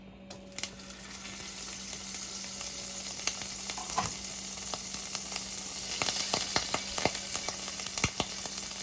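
Butter and oil sizzling in a frying pan, a steady close hiss with a clank near the start and bursts of louder crackling and spattering later on.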